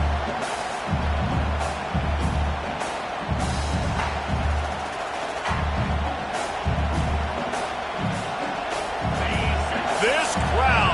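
Stadium crowd at a Clemson versus West Virginia college football game roaring in a sustained, loud wash of cheering with repeated thuds, while a commentator talks over it.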